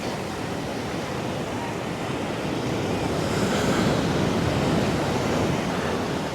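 Hard ocean surf crashes in on a red flag day at a Caribbean beach, a loud continuous roar of breaking waves with wind buffeting the microphone, swelling slightly midway; a brief voice murmurs once.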